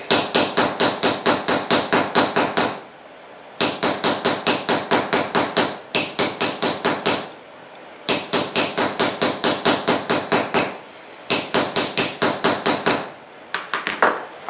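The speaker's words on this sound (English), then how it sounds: "And then I'm going to use the peening tool." Peening tool hammering a rivet on a snowshoe binding: rapid, even metallic taps in four bursts of roughly a dozen strikes each, separated by brief pauses, close and loud with no talking.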